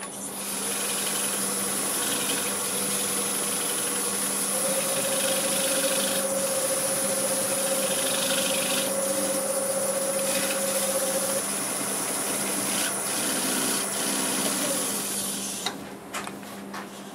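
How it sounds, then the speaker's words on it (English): A wood lathe runs in reverse while a black locust turning is buffed, giving a steady, moderately loud motor hum with a faint whine that continues unbroken before stopping near the end. "I do like to buff it out with my lathe running in reverse"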